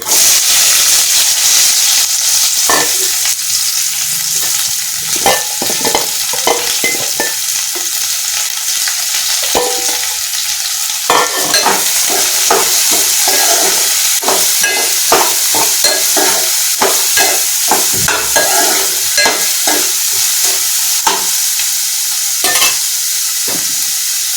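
Onions and green chillies fry loudly in a pan for a Telugu netthallu (dried anchovy) curry, a steady bright sizzle and hiss with frequent stirring clicks and scrapes throughout, close and continuous with no talk.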